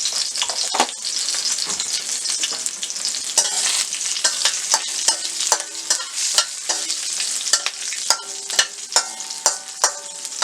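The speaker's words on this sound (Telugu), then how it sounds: "2 లవంగాలు, 1 అనాస పువ్వు వేసుకొని 2 పచ్చిమిర్చి వేసుకొని ఫ్రై చేసుకోవాలి." Cloves, star anise and green chillies frying in a pan, a close sizzle broken by repeated scraping and clinking stirring strokes that grow more rhythmic toward the end, no talk.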